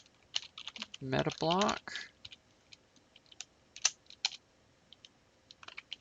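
Typing on a computer keyboard: brisk, close clicks come in uneven bursts and single taps. Someone speaks a few words briefly early on.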